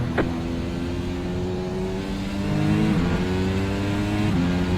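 Race car engines in a racing video game drone steadily and loud throughout, pitch sliding as cars shift gears, with no talk over them.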